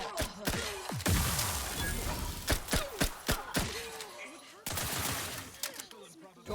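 Repeated gunshots ring out during a firefight in The Outer Worlds 2, sharp cracks in an uneven rhythm over a dense wash of combat noise, with game voices mixed in.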